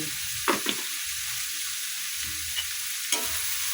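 Bitter gourd (ampalaya) frying in a pan, with a steady sizzle broken by a few sharp scraping stirs of a utensil against the pan, close by and with no talking.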